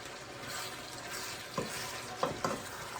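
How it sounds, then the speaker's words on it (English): Homemade tomato sauce being stirred in a pot, a low bubbling simmer with a few distinct scraping strokes of a spoon toward the end, close and quiet. "at this point, I'm going to mix it"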